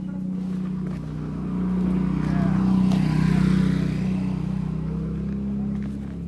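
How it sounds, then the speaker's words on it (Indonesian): Steady idling hum of a Yamaha Aerox motor scooter engine, close by and continuous, swelling slightly midway with no talk over it. "Ini motor saya nih Aerox."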